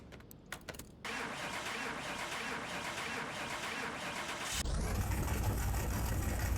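A misfiring car engine in Car Mechanic Simulator 2021 catches after a few short clicks, then runs with a steady rough drone that swells louder in its last seconds.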